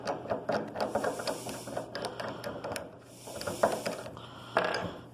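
Metal cylinder spun off a mechanical-equivalent-of-heat lab apparatus, a close, busy run of clicking, ratcheting and rattling mechanical noise with a brief lull before it picks up again.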